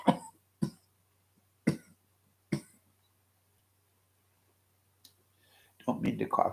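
Four sharp, close coughs are spaced unevenly over a few seconds, each with a short rasp, followed by quiet, then a burst of talking at the end.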